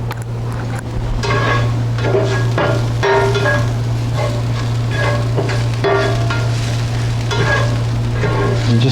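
Leeks sizzle steadily in olive oil in a pan as they begin to caramelize, with a loud continuous frying hiss and repeated scrapes and stirs over a low steady hum.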